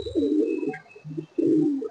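A Malwai pigeon gives deep, rolling coos close by, two drawn-out phrases with a shorter soft note between them, and no talking.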